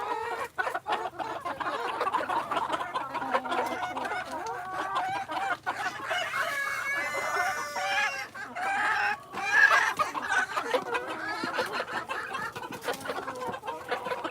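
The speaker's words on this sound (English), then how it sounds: "Oh, there's two roosters fighting over here." Two roosters fight outdoors at a storm-hit home in Georgia, with dense clucking, squawks and crowing from several birds, close and loud, continuing throughout without talk.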